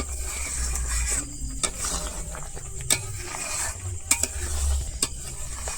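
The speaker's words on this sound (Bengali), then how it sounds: "একদম দিয়ে সুন্দর করে নাড়ছি দেখো" Sweet raw mango pickle with ground spices is stirred in a hot pan: a continuous scraping stir over a soft sizzle, with a few sharp taps against the metal, close and unaccompanied by speech.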